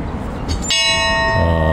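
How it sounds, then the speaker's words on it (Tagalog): Bell of Happiness at a lookout near Mt. Fuji, struck once with a bright metallic clang that rings on and slowly decays over faint outdoor traffic rumble. "Bell of Happiness."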